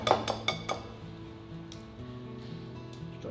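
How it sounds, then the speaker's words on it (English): A raw egg cracked against a hard edge in a butcher's kitchen while preparing steak tartare, giving a few quick close clinks and taps at the start, then a quiet tail of faint handling. "I'm going to crack an egg and get me the yolk."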